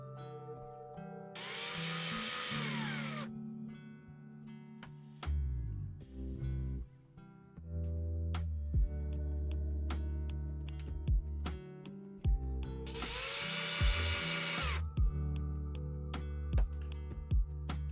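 Power drill driving screws during a Tamiya Super Avante model car build, two loud high-pitched whirring bursts of a couple of seconds each, with clicks, handling knocks and rattles in between.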